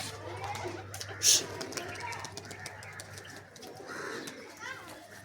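Soft pigeon cooing from an old-line loft bird mixes with ambient chatter and a brief sharp sound partway through, the calls fairly faint under nearby voices.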